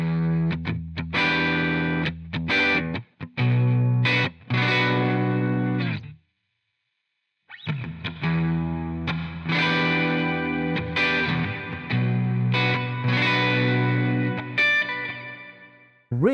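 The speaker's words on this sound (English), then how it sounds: "this being a digital reverb with the spring reverb coloring the tone" An electric guitar played through AmpliTube presets with a digital reverb and spring reverb colouring, a loud, sustained distorted tone of ringing chords that cuts out into silence midway, then resumes with a lingering, washy tail.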